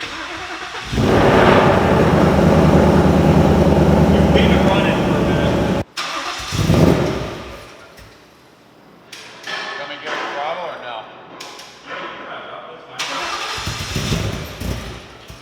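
A modified Ford Mustang 5.0 with larger-than-stock injectors and an ethanol tune cranks and fires into a loud, rough run for several seconds, then cuts out. It restarts in shorter, quieter bursts while people talk nearby.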